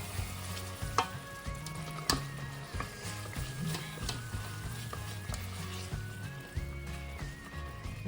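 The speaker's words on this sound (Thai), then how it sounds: "ผัดเลยค่ะผัดเลย" Food sizzles and crackles in a pot while a utensil scrapes and clanks against it in repeated stir-frying strokes, close up.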